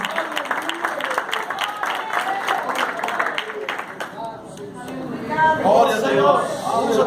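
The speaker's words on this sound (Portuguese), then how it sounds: "Aplaude ao Senhor Jesus." A church congregation claps through a worship service, a loud, fairly steady patter of hands that tapers off partway through. A voice then rises over the fading applause.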